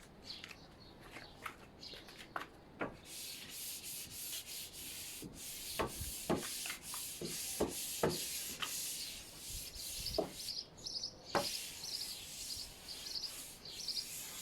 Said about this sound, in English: So just a very light rub over what we've done, just to smoothen it up and get it ready for the mural.